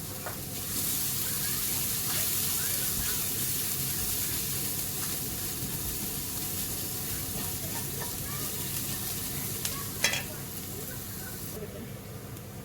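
Ginger and onions sizzle steadily in a hot pan for Indian-Chinese hakka noodles, a constant frying hiss throughout with a brief stir or clatter near the end while a cook talks over it.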